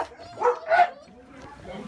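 A house dog gives two close, sharp barks in quick succession as people arrive home, then quieter sounds follow, with voices present.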